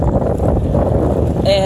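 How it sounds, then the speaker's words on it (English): Strong wind roars in a steady, loud rush during a sand-blowing wind storm, buffeting the microphone throughout, with a brief tonal sound appearing near the end. "the wind is blowing so fast that the sand is just really all over the place"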